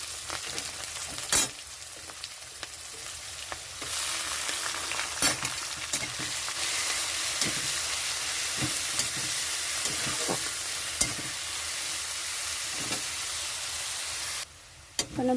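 Koi and magur fish fry in a pan as onion goes in, a constant moderate sizzle punctuated by sharp utensil clanks and stirring knocks at irregular intervals.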